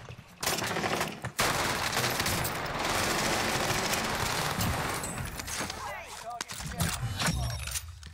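A KG M40 rifle fires freely in a Warzone match: dense, rapid bursts of loud, close gunfire crackle almost without pause, broken by a couple of short gaps, with voices talking over the shooting.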